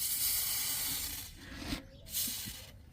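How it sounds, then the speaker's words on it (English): Würth 2040 penetrating oil hisses from a spray can through a straw into the rear suspension boot of a BMW X4, a close, steady rush broken by short pauses between the sprays. "So give it a good few sprays until you see it starting to come out."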